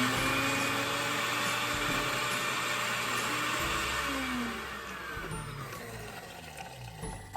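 A blender churns frozen ingredients with a steady loud motor whine that runs unbroken, easing slightly in the final seconds as the load shifts, with no talking over it.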